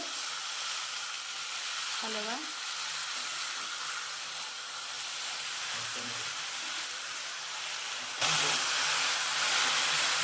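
Fenugreek leaves go into hot oil with garlic, chilli and cumin for methichi bhaji, giving a steady close sizzle with brief stirring sounds. The sizzle swells louder near the end.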